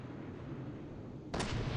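Gunfire from a small turret in a video game battle: a steady low rumble gives way near the end to a sudden loud burst of rapid shots.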